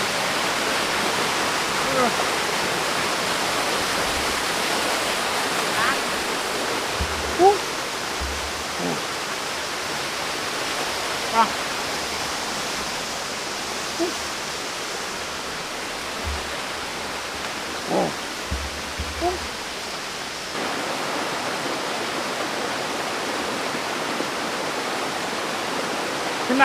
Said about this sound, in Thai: น้ำตกที่เนี่ยสวยมากทุกคน